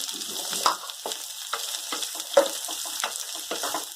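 Steady sizzling of onion frying in a pan, with occasional scraping stirs of a utensil, close and continuous.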